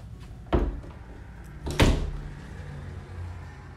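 A coat closet door in a modular home sounds two clear knocks, one near the start and a louder one about a second later, against a quiet room.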